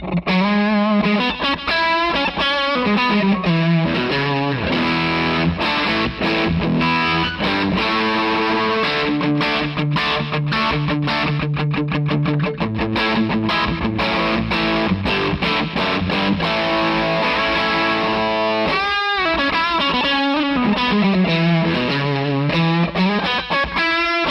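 Distorted electric guitar playing chords and runs through an Empress Echosystem delay pedal, each note trailing into repeating echoes that smear together into a reverb-like wash.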